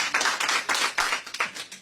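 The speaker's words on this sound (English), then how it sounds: "I'll wait till the clapping's done." A town hall crowd in Iowa claps in a loose rhythm of distinct bursts, the individual hand claps close together and fairly loud, with no voices over them.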